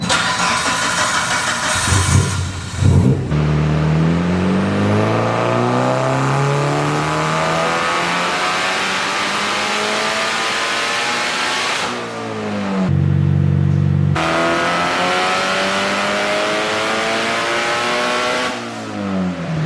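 A turbocharged Mitsubishi Evo 9 with an upgraded turbo on a dyno, loud and close: the engine starts, then sweeps up through a long rising full-throttle pull, drops briefly, and climbs again in a second hard run.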